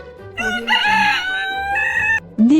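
A rooster crows loudly and close, one drawn-out cock-a-doodle-doo with a brief cluck-like note after it, heard alone.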